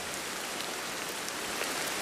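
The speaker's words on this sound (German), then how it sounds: "Auch wenn es regnet." Rain falls steadily in the video game Ancestors: The Humankind Odyssey, a dense, even hiss of drops on surfaces with faint individual patters, no speech.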